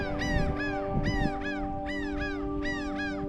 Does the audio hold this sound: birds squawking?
yes